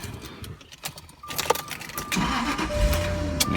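A 1999 Jaguar XK8 convertible starts up: keys jangle and a warning chime sounds, then the engine cranks, catches and settles into a steady close idle, with no talk.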